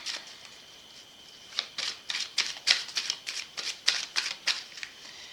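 A deck of Belline oracle cards being cut and shuffled by hand, a quick run of crisp papery riffles and flicks building after a quiet start, close and fairly soft with no talk.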